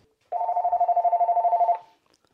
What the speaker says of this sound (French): Vous allez entendre la sonnerie vraiment qui est très forte, 80 décibels.